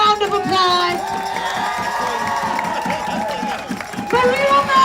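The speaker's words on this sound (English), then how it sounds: "So give yourselves a round of applause." A crowd at a pro-Palestine street protest outside the State Department in Washington DC, loud cheering, whoops and shouts with scattered clapping, voices rising and falling together close by.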